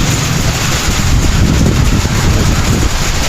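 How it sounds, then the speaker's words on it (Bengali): Strong wind during a storm in Mecca roars and buffets a microphone steadily throughout, a loud, broadband rushing with low rumble and no pauses. "প্রচুর পরিমাণ বাতাস"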